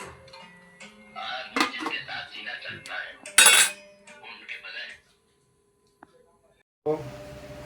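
A cooking pot with simmering fish curry being stirred and then covered with a lid, metallic clinks and scrapes under a man's speech, a sharp clatter midway, then quiet before a soft bump and faint noise.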